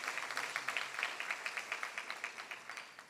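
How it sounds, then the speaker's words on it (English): An audience of scholars from around 27 African countries at a foundation event claps for about three seconds, a faint, fairly distant patter of many hands with a steady rhythm. "So let's give ourselves a round of applause for that."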